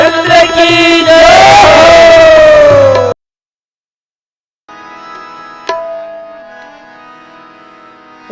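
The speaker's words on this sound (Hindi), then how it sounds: "एक बार बड़ा जोर से जयकारा लगाओ, ताली बजा के बोले राजा रामचंद्र की जय।" A large crowd at a Ram Katha festival in Bemetara roars a loud victory chant for about three seconds. Silence follows, then a quieter passage of sustained tones with a single sharp clap.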